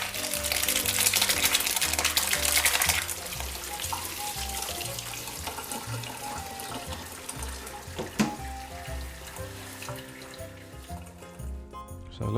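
Hot whey drains from homemade ricotta with a steady running, splashing pour that is loudest at the start. It then settles into a softer trickle, with a clink partway through.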